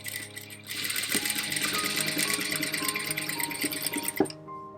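A sewing machine stitches U-shaped lines in one close, steady run of rapid needle strokes that stops abruptly near the end.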